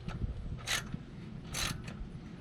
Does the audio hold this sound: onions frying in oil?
no